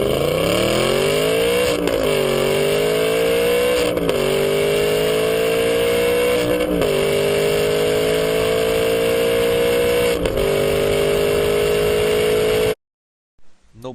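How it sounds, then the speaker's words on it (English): Naturally aspirated Aston Martin V8 Vantage engine, Jaguar-based, pulling loudly through several gears, each run rising in pitch before a short dip at the upshift, then cutting off abruptly near the end. "Aston Martin V8 Vantage, equipped with magnificent V8 unit developed basing on Jaguar engine architecture"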